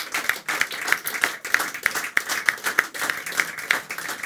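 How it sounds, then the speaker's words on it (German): Studio audience clapping at a celebrity talk show in Dinslaken, a rhythmic, fairly close burst of claps in even pulses with no talk. "Applaus."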